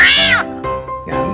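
Several cats meowing close by beside a pond during a Friday community clean-up, with two or three loud, drawn-out meows in quick succession.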